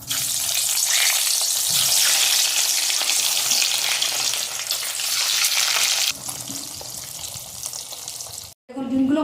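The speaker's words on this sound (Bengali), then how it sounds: "এখন ডিমগুলো ভাজছি, হালকা ডিমগুলো ফাটছে" Eggs coated in salt and pepper fry in a pan for an egg chilli recipe, a loud, steady crackling sizzle that drops in level near the end before a brief pause.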